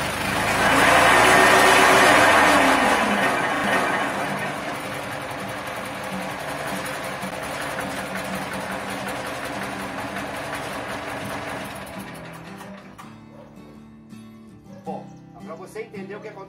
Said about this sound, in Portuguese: Quando a máquina ligou o motor, ela liga acelerado.